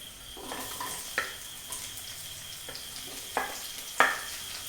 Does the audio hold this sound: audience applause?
no